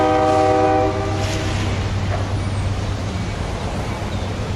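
A train rolls past in the rain at Rainier, its horn sounding a steady chord at first before the steady rumble and rattle of the last cars carries on alone as the end of the train goes by.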